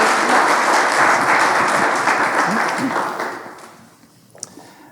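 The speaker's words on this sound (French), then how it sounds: "À vous la parole, on les applaudit." A conference audience in Geneva applauds a pair of speakers introduced on stage, with dense, loud clapping that fills the room and then tapers off toward the end.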